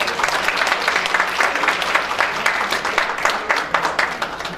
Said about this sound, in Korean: 바이올리스트 장선정 선생님께 다시 한번 큰 박수 부탁드리겠습니다